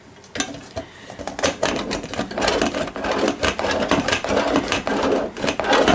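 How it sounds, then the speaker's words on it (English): A bar of Castile soap is grated by hand in rapid, uneven rasping strokes, each scrape a gritty burst, close and fairly loud with no talking. "I'm going to go ahead and finish grating the soap"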